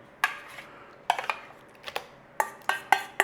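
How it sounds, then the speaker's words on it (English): A utensil stirs vanilla and sour cream into apple cake batter, knocking and scraping against the bowl in irregular clusters of sharp clinks, close and clear with no voices. "Stir it in."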